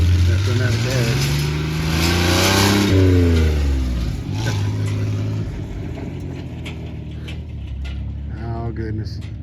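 A four-wheel drive vehicle's engine revs loudly nearby, its pitch climbing and falling through several surges before easing to a lower steady rumble, with mechanical clatter mixed in.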